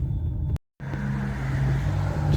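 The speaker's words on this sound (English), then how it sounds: "Right, let's take it for a quick spin on the road." A part-exchange car driven on the road, steady engine hum and tyre rumble heard from inside, broken by a short silent cut before the drone resumes.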